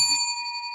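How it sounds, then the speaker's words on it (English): A single bright bicycle bell ding rings out and lingers with a clear metallic tone, sounding close and alone. "Let's ring the bell for Royal RUA."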